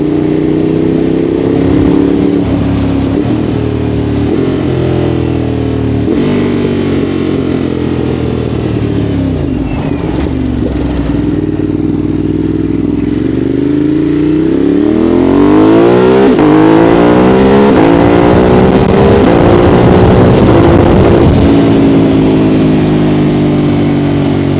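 Ducati Monster 821 motorcycle ridden at full throttle with quickshifter upshifts, a loud engine climbing in pitch again and again, each rise cut by a brief clutchless shift before the next pull, dominating throughout.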